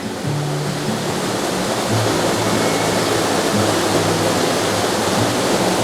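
A waterfall roaring steadily, a dense continuous rush of falling water that stays loud and unbroken, heard close with no voices over it.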